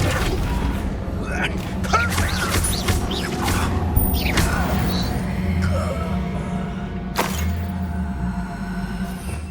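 Confringo and other spell blasts in Hogwarts Legacy go off as repeated booms, crashes and sharp bursts over a steady bed of clanking game noise, with a final sharp crack near the end and occasional character voices.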